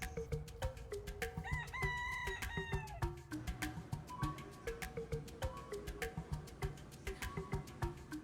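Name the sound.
feral roosters crowing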